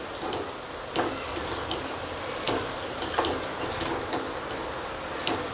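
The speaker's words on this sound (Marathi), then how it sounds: "टाकले आता बटाटे आता आपण परतून घेऊया थोडे" Green potatoes sauté in a pan with a steady, close sizzle and occasional sharp ticks from stirring. The sound continues evenly and unbroken throughout.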